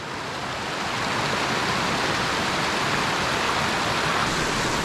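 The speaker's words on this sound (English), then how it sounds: "We have successfully bushwhacked and found the water crossing." Stream water rushing at a hiking trail crossing in Rocky Mountain National Park, a steady, close, loud broadband wash that swells slightly at the start and then holds even, with no voices.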